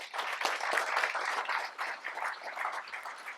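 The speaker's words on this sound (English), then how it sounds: "round of applause, that'd be awesome" Moderate applause from a seminar audience, a fairly quiet, uneven patter of clapping hands that swells and dips over a few seconds with no talk over it.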